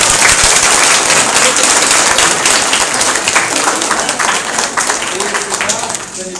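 An exhibition audience claps for the teachers, close and lively at first, then gradually thinning out, with a voice speaking over the applause.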